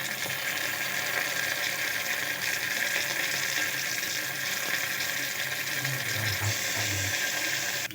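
Garlic paste sizzling in a pan with softened onion for veg pulao, a steady loud hiss running unbroken throughout with a few faint low knocks near the end.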